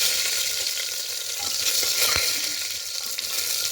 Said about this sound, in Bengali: এবার তেলের মধ্যে দেবো গোটা গরম মশলা ফোড়ন।